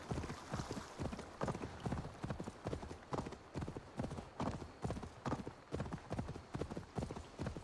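Hooves of a horse galloping in Assassin's Creed Valhalla, a fast rhythmic clip-clop beating steadily and close throughout, with no talking over it.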